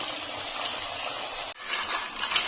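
Chips fry in hot oil in batches, a dense, even crackling hiss with bubbling texture that cuts out abruptly for a moment and then resumes, close and moderately loud, with no voices.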